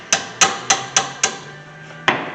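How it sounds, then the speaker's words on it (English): A hammer knocks on a brake caliper of a 2007 Honda Accord to free it, five sharp metallic taps in a quick even rhythm, a pause, then one more strike, loud and close with no talk. "Use a hammer to knock it loose."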